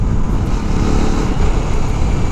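A Euro Motor Rapido 110 motorcycle engine running smoothly, a steady low rumble heard loud and close with no breaks or talk.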